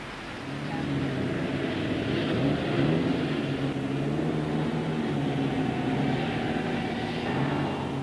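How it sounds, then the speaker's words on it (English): Cars driving off along a laterite road in Africa, a steady, continuous engine and road rumble that stays fairly even throughout without pause. "we drive off on the good laterite road to Bongassou"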